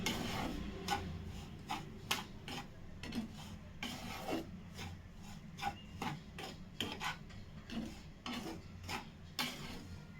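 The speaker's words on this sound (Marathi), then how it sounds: "आता हे फक्त पाच मिनटं त्याला परतवून घ्यायचं" Semolina and grated coconut are stirred and dry-roasted in a pan over very low gas, making a steady run of close, gritty scraping strokes at a brisk, regular rhythm.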